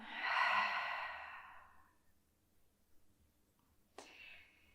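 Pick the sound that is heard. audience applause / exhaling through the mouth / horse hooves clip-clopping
exhaling through the mouth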